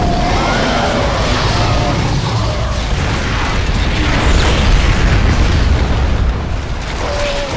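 A cannon blows apart amid a battle in StarCraft 2, a dense, loud, sustained roar of explosions and rumbling booms with scattered tonal game effects layered throughout, close and continuous from start to finish.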